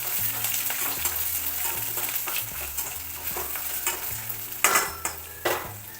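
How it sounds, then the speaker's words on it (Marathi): Grated ginger and roasted peanuts sauté in oil in a pan for poha, making a continuous close sizzle with rhythmic stirring strokes and two sharper scrapes near the end, with no voices. "भाजलेले शेंगदाणे तेलामध्ये चांगले परतून घ्यायचे"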